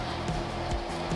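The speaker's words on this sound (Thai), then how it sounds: "อันนี้คือเสียงตอนคอมเพรสเซอร์ทำงานอยู่นะครับ" Compressor of a TAMBEL SQN750 portable 24V DC air conditioner running, a low, steady, fairly quiet mechanical hum with no other sound.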